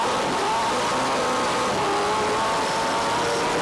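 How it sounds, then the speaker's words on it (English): Onboard a Dodge Viper saloon race car at speed on a circuit, the engine roars loudly and continuously, close and steady with a slight rise in pitch, no talk. "we're on board with Kayne and the awesome Viper"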